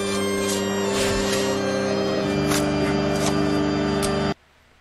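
A song plays loud and full, a dense music track with steady beat and layered tones running for about four seconds before cutting off abruptly to near silence.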